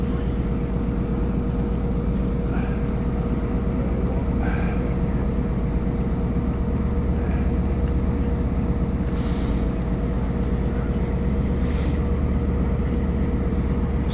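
A Long Island Rail Road passenger train, the Cannonball, led by locomotive 501 with 522 trailing and twelve Kawasaki C3 bi-level cars, gives a steady, continuous rumble with a constant tonal hum throughout, heard from a distance with no talk.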